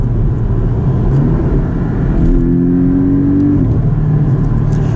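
A Porsche 718 Cayman S in Sport Plus mode with the sport exhaust accelerates, a loud, close engine drone that rises in pitch through the middle and then drops as it shifts, heard from inside the car.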